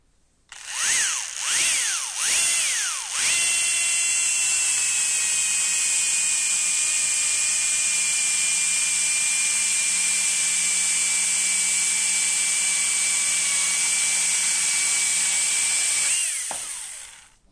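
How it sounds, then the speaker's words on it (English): A Husqvarna battery telescopic pole saw revs up in a few short bursts, then runs at full power in one steady, loud, high whine for about thirteen seconds before cutting off abruptly. "Husqvarna now. Husqvarna. On full power."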